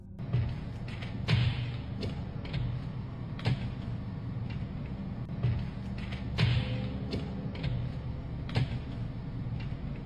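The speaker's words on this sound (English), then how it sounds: "Distinct banging sounds can be heard, sharp and rhythmic, coming from the glass itself." Sharp, rhythmic banging on mirror glass repeats at fairly even intervals over a low, murky background hum, the knocks moderately loud and close, with no voices.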